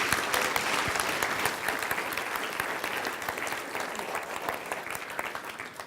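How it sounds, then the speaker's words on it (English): An audience claps steadily, a dense wash of applause that slowly tapers toward the end. "Give him a nice round of applause, guys."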